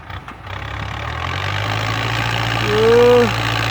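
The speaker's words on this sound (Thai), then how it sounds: "เสียงฟอร์ดนิ่มบ่ครับ" A Ford 6610 farm tractor idles close by with a steady low diesel thrum, and a brief whining tone rises over it near the end.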